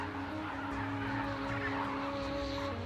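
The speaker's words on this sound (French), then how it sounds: "ce lac est le rendez-vous des oiseaux migrateurs qui vont de l'Europe à l'Afrique" Migratory birds call at a desert salt lake, honking and gobbling fowl-like notes sounding continuously over a constant low hum, moderately loud and somewhat distant.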